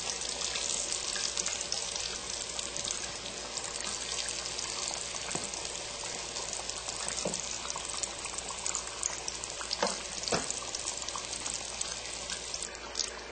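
Apple turnovers fry in a pan with a continuous close sizzle and occasional small pops and crackles.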